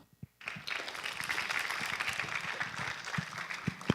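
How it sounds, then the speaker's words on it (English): Audience at a TEDx talk at an international school breaking into applause after a few isolated sounds, a steady moderate crowd clapping that holds to the end. "A round of applause for Mrs. Judy Lau."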